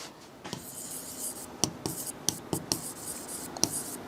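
Marker or chalk writing on a board during a physics lesson, with a run of short scratchy strokes and taps, fairly close, over a quiet room.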